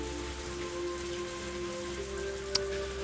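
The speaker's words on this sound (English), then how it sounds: "The only sounds to break the silence were the percussion of the rain on the roof and the soft squeak of the windshield wipers." Rain drums on a car roof in the video game Higurashi When They Cry Hou, a steady soft hiss of drops lying under faint sustained tones, with one sharp tick near the end.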